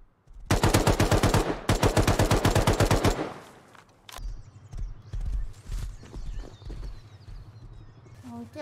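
A horse galloping across the ground in the survival game Rust, with rhythmic hoofbeats heard alone. Two loud rapid bursts of gunfire come first, then the steady thudding gallop continues close by.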